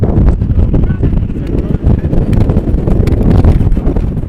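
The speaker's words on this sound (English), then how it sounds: "Whoa, that's the biggest gust of the game." A strong gust of wind buffets the microphone at an outdoor adult softball field, producing loud, continuous rumbling roar that surges and dips over several seconds.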